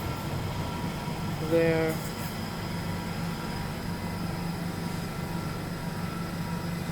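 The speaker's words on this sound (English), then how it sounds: "Departing out now is an Elizabeth Line service from Reading to Abbeywood via London Paddington" An Elizabeth Line train runs at Slough station, a steady low rumble and hum of the train with a brief whistle-like tone near the start and a faint voice in the background.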